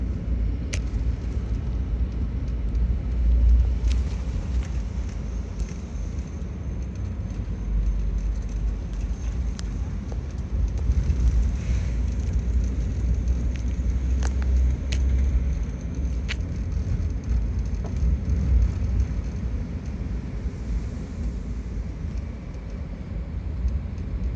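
Four-wheel-drive truck rolling along sandy beach roads in North Carolina, a steady low engine rumble and tire noise throughout with scattered faint clicks and rattles, no voices.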